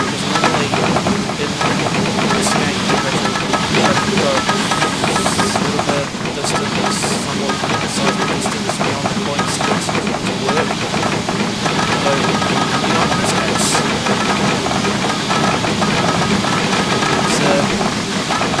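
A steam locomotive on the Corris Railway in Train Simulator 2019 chuffs and hisses steadily for the whole stretch, a dense, continuous rumble of steam and working engine noise with faint clanks, no voices.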